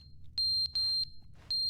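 A smoke alarm in the video game The Stanley Parable gives three loud, high electronic beeps in an irregular pattern, with a faint low rumble running underneath.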